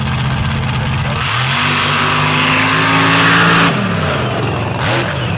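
A blown paddle-tire drag racing vehicle roars through a run at Lee County, its engine loud and close, revving up with rising pitch, holding a hard scream, then dropping off sharply as the throttle lifts.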